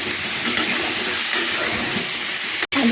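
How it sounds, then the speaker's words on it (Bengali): Potatoes frying in a spiced masala for veg biryani, a steady, close sizzle and hiss throughout, broken by a brief gap near the end. "এর মধ্যে দিয়ে দেবো ভেজে রাখা আলুটা দিয়ে আলুটাকে একটু কষিয়ে নেব।"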